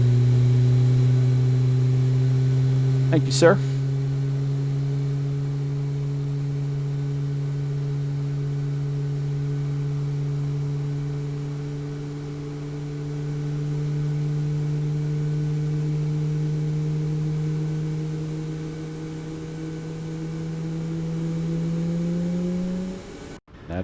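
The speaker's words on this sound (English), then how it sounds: "And here comes engine 2." Engine 2 of an iFly 737 MAX 8 in MSFS 2024 spooling up from a cold start: a loud steady low hum with rising tonal whine bands that climb slowly over about twenty seconds, a brief click partway in, and a short spoken thanks near the start.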